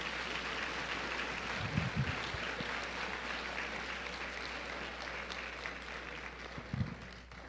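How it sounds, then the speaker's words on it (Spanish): A church congregation applauds in praise of God, a soft, steady wash of clapping that holds at an even level from start to finish. "Dale un aplauso al Rey de Reyes y al Señor de Señores."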